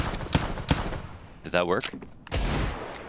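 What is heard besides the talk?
AK rifle gunfire through a wall, Counter-Strike video game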